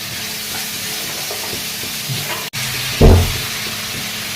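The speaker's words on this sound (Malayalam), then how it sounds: "പാനിലേക്ക് നമ്മൾ കുറച്ച് വെളിച്ചെണ്ണ ഒഴിച്ച് ഇനി നമ്മൾ അരിഞ്ഞു വെച്ചിരിക്കുന്ന ഉള്ളി വേവിക്കുക." Chopped onions frying in coconut oil in a pan, with a steady close sizzle and hiss, light stirring scrapes, and a louder burst of sizzling near the end.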